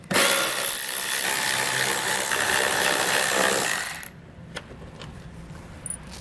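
A 7 mm splash shield screw comes out from under a 2019 vehicle during a Roadmaster base plate install, with a loud steady power-tool whir for about four seconds, then stopping, followed by a few faint clicks and taps.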